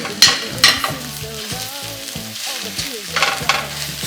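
Korean chive pancake batter sizzles in oil in a pan, a steady frying hiss with louder crackling bursts, heard beneath tuneful background music.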